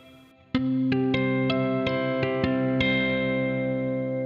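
Guitar plucked note by note up the neck, each crisp attack ringing into a long wash of reverb that sustains after the last note, eight picked notes in a steady, unhurried rhythm, close and alone.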